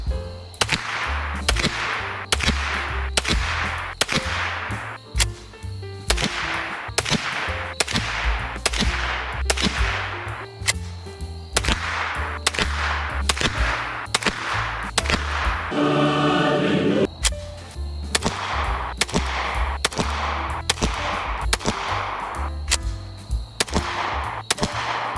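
A 9mm rifle with a 16.37-inch barrel fires a long series of sharp, evenly spaced shots, loud and close, with a short pause partway through before shooting resumes.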